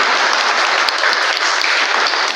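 Enthusiastic applause from an audience at a dance studio summer camp event, dense and continuous clapping from many hands close by, holding an even loudness for the whole stretch.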